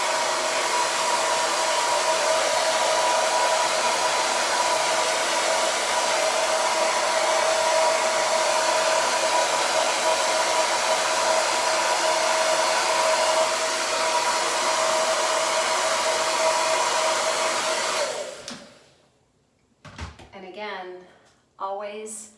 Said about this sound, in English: then I hit it with the blow dryer